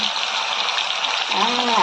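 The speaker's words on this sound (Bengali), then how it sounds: "চলো মাছগুলো ভাজা যাক" Fish frying in hot oil, a continuous close hiss and sizzle with a short burst of speech toward the end.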